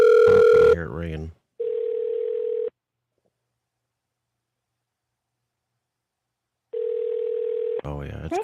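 An outgoing telephone call rings through a handset in two long electronic ring tones separated by a stretch of silence, loud and close, with brief bursts of a man's speech at the start and end.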